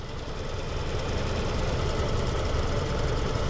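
A 2024 Kia Sportage SX-Prestige four-cylinder engine runs steadily, a constant low rumble with a broad mechanical hum, heard close and alone without talk.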